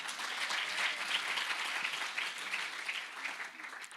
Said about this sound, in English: Can you please give a round of applause to my chair?